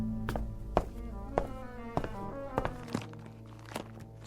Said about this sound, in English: Sounds of a three-masted schooner in the South Pacific.